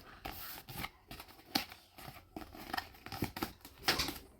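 Paper plate corners being folded by hand, a series of close, crisp crinkles and soft creasing snaps in irregular bursts, fairly faint, with no talk.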